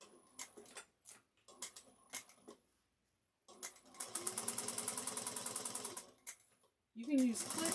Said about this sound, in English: we're going to sew 1/8 of an inch down both sides